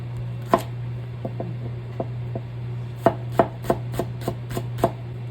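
Knife chopping kimchi for dumpling filling on a cutting board, irregular taps at first then a quicker run of evenly spaced chops, close over a steady low hum.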